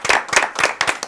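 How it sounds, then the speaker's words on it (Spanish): Studio audience applause on a television talk show, a brief burst of close, crisp handclaps in quick uneven rhythm. "Un aplauso enorme para Neri Alberto Gumpido."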